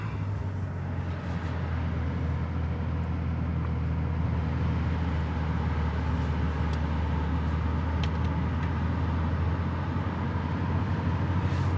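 A Chevrolet C8 Corvette's engine idles steadily just after start-up, a continuous low rumble holding near and even for about twelve seconds with no talk.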